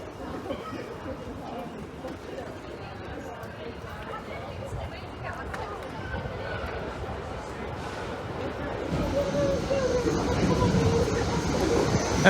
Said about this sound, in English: Right, next train approaching.